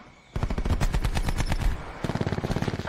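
Rapid automatic gunfire in a video game shooter, a loud close burst of rattling shots followed by a second quicker, sharper volley, no talk.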